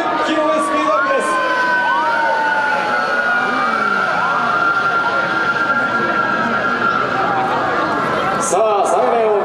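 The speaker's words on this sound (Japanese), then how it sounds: "サイレンを鳴り響かせながら120キロで高速走行" Wailing police sirens from Japanese police motorcycles speeding at 120 km/h during a high-speed lap of a precision riding display, loud and continuous with rising and falling sweeps, with an announcer talking over the sound.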